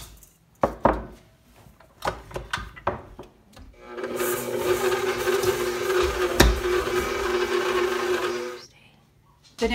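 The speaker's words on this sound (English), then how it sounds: "We are going to start with creaming together our butter and our sugar." Butter and sugar being creamed with an electric mixer for butterscotch cookies, a few knocks and handling sounds, then a steady whirring motor hum for several seconds before it stops.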